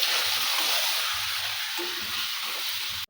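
Mutton sautés in a pan with a steady loud sizzle and occasional low stirring thumps, close and continuous, with no talking, cutting off briefly just before the end.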